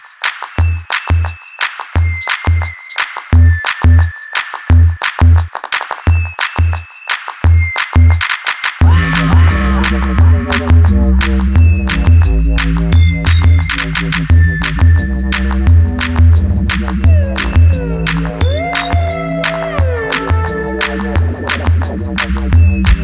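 Music track run through a Pultec-style EQ with its low-end boost and cut applied, a sparse thumping bass beat giving way to a full, dense mix with heavy low end, loud and steady without speech.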